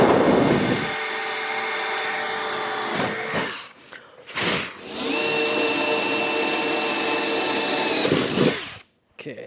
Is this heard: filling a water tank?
no